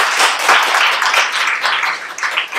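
An audience at a Coral Stories 2019 talk on nutrients in massage work breaks into loud, dense applause, a continuous close wash of clapping with no pauses.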